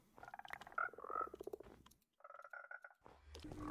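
Frogs croaking in the Minecraft video game: repeated short, buzzy croaks in two bursts separated by a brief silence, close and fairly clear with no talking.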